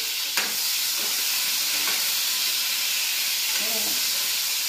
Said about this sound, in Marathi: याला असं हलवून द्यायचं.